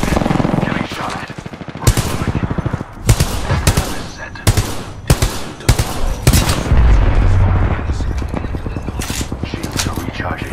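Rapid bursts of automatic gunfire in a video game, loud and close, break off into short shots and then come back, with a spoken voice between the volleys.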